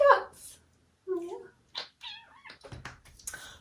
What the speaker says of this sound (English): This is Zuko, my lovely fluffy kitten.